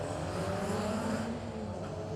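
Cars roar at a drag race night strip under a dense, continuous engine drone heard from a distance, with no distinct pass or sharp launch, the roar ebbing slightly toward the end.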